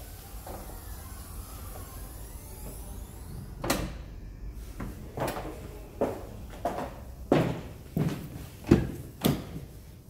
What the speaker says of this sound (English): Close the boot, it's just one touch.